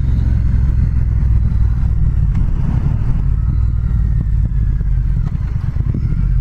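A 2019 Triumph Speed Twin motorcycle engine runs steadily while riding, a loud, continuous low rumble with wind noise and small throttle surges, no talk over it.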